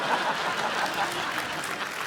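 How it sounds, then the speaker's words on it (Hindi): Audience applause fills a comedy talk show studio, a dense, moderately loud patter of clapping with no clear talk over it. "जोरदार तालियां"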